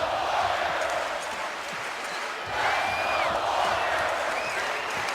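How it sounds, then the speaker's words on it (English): A packed basketball arena crowd cheers in a sustained, dense roar that swells near the middle, loud and continuous with no clear breaks. "This is a crowd that has been on their feet now for about 4 minutes"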